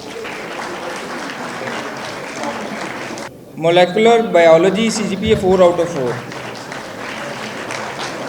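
An audience at a laptop and awards distribution ceremony applauds steadily, with broad, moderate clapping that continues under a voice announcing over a loudspeaker.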